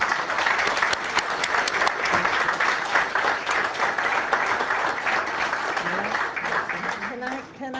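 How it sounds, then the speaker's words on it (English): Applause from an audience at a council meeting, steady dense clapping held for several seconds before tapering off near the end, with a voice briefly heard. "really let's give everyone a round of applause"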